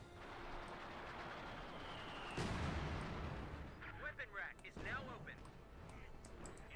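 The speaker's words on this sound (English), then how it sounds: "Mortar firing down all over the place." Mortar fire in Company of Heroes 2 during a Wehrmacht versus US Forces match, with a sharp blast, rumbling impacts and booming artillery under steady battle noise, while a person talks over it.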